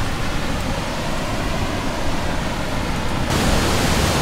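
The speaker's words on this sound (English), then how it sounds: "An authentic waterfall. Pretty much in downtown Hilo." A waterfall in downtown Hilo, Hawaii roars as a loud, unbroken wash of falling water close by, filling the whole stretch with steady broadband rushing that grows slightly brighter near the end.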